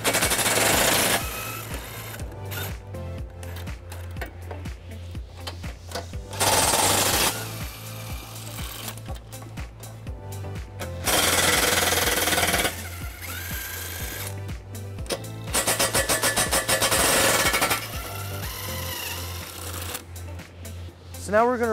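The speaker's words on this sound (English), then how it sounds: "we're going to use an 18mm socket to remove those" Power tool or ratchet bursts spin 18mm nuts off the bumper beam of a 2020 BMW X3 during trailer hitch installation, loud buzzing runs repeating every few seconds over a steady low hum, with some talk in between.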